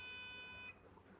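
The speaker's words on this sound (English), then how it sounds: "the buzzer sounds an alarm letting us know that the tabletop is level" An Arduino multi-tool's buzzer sounding an alarm to signal a level tabletop, a steady shrill electronic tone held for under a second and then cut off abruptly, leaving quiet room noise.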